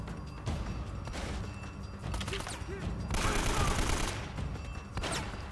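AK rifle fire in the video game Uncharted: Drake's Fortune, with bursts of automatic shots rattling through a steady backdrop of game noise, heaviest near the middle of the stretch.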